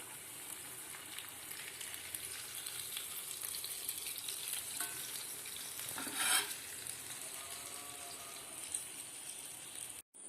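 Vaala fish fry sizzles steadily in a pan, a constant hiss with a brief louder scrape of stirring near the middle and a sharp cutoff just before the end.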